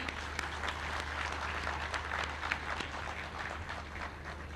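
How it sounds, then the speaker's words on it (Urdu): An audience at a Punjab government event for farmers claps in a steady wash of applause, heard faintly from a distance without letting up. "میں یہ چاہتی ہوں کہ آپ سب میرے ساتھ مل کے تالیاں بجائیں۔"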